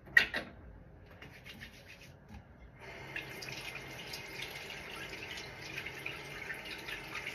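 Hands are washed under a running bathroom tap, with a sharp knock at the start, then a quiet, steady stream of water splashing and rubbing that grows a little fuller after a few seconds.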